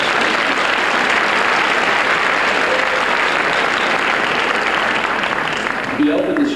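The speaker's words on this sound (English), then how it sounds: "Let's give a big round of applause for all of our contestants and their efforts." Pageant audience gives the contestants a big round of applause, loud, dense and sustained clapping from a full crowd that fills the room, with a voice or cheer faintly surfacing near the end as it begins to taper.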